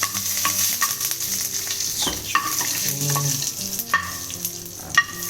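Steady sizzling and crackling of cumin seeds and curry leaves frying in hot oil for rasam tempering, with occasional stirring clinks from a utensil, close and continuous.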